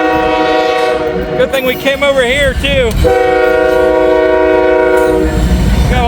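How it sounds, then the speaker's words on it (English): A Norfolk Southern mixed manifest freight train blasts its horn loudly and repeatedly at close range, the tones wavering and bending before a long sustained blast, while wheels rumble beneath and someone speaks briefly. "Oh, it must be a Norfolk Southern train."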